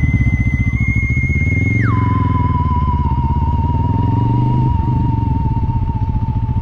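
A Bristol Bobber 650 motorcycle ridden in first gear on a test ride: a steady, close, low throbbing engine note with rapid pulses holds throughout, and a higher whine drops in pitch partway through, with no talk.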